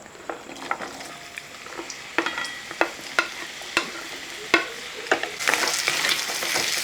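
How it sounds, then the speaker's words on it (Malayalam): Chopped mango tossed into hot oil for a Kerala-style oil mango chutney, sizzling steadily with sharp spoon-against-pan clicks from stirring, the frying swelling into a loud, bright hiss near the end. "തീ ഒന്ന് കൂട്ടി വെച്ചിട്ട് നമ്മൾ ആദ്യം അരിഞ്ഞു വെച്ചിരിക്കുന്ന ആ മാങ്ങ ആ മാങ്ങ ഒന്ന് ഇട്ട് കൊടുക്കുകയാണ്"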